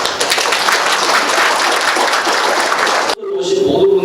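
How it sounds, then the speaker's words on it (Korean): An audience at a lecture event breaks into loud, sustained applause, with dense clapping for about three seconds before it cuts off abruptly and a voice begins speaking. "박수 부탁드립니다."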